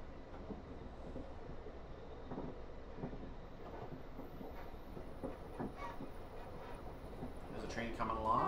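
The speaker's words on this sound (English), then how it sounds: "Train coming along." A Waterloo to Plymouth train rumbles past in a train simulator game, a continuous low clattering roar that swells toward the end while someone talks over it.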